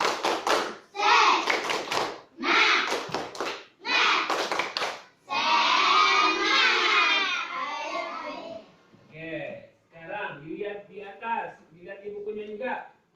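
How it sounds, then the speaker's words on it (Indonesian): A classroom of children performs a rhythmic spirit clap, with patterned bursts of hand claps between loud chanted voices in a close indoor room. "Kalau begitu, tepuk semangat."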